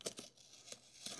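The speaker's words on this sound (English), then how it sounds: "I'm gonna pull out the blue tapes" Blue painter's tape peeled from the joints of a handmade wooden box, giving several short, soft ripping strips in close succession, quiet and close with no talk.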